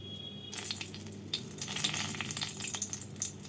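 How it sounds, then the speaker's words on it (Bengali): A dried red chilli hits hot oil left over from frying fish, set off by a sudden loud sizzle about half a second in that then crackles steadily, close and busy, with no voices. "মাছ ভাজার তেলের মধ্যেই রান্নাটা করে নেব এর মধ্যে ফোড়নে দেব একটা শুকনো লঙ্কা"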